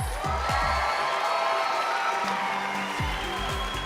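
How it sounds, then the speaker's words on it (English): A Miss America pageant audience claps and cheers in a large hall, a steady, dense wash of applause with scattered whoops throughout. "Let's give them one more round of applause."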